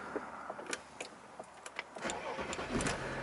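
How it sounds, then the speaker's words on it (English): An Audi A8 3.0 TDI quattro diesel starts up from inside the cabin: a few soft clicks and button noises, then the engine catches at about two seconds and settles into a steady, close idle rumble. "Foot on the brake, press to start."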